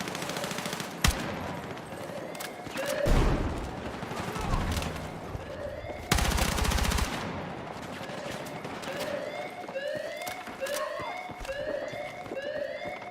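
Battlefield 6 beta firefight with bursts of automatic weapon fire and sharp single shots, some loud and close, others distant. A siren-like wail keeps rising and falling in the background. Occasional talk sits underneath.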